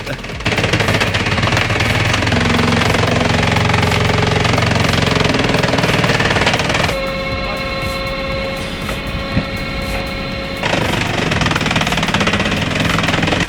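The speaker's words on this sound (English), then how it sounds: "Watching the JBM 80-ton splitter is hypnotic." A JBM 80-ton log splitter with side loader and 24-slice wedge works through a 24-inch log, its loud steady engine and hydraulic drone running continuously, with a shift in tone partway through as the wedge pushes through.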